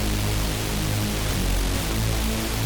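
A Serum synth sub bass patch from a sample pack, left unequalized, holds a steady, loud low drone with a dense noisy wash above it for the whole stretch, with no voices.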